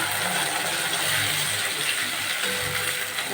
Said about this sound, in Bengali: রসুনটা ভাজা হয়ে গেছে, এখন একটু পানি দিয়ে দিব।